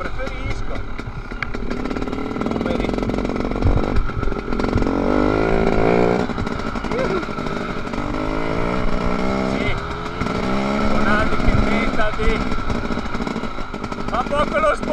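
A motorcycle engine revving and shifting pitch while riding, loud and continuous, with voices speaking over the engine noise at times.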